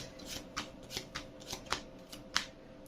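Cards shuffling into a deck in a card-based video game, a quick series of about six soft riffling bursts at an uneven pace, close and quiet, with no talk.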